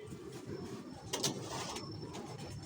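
A pigeon coos nearby in a bird-breeding setting, a few soft, throaty calls over a steady background hum.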